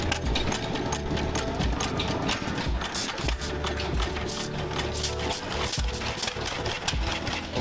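An old Cérès stationary engine from Bar-sur-Aube runs steadily with a rapid mechanical clatter and rhythmic thumping, loud and close, with no voices over it.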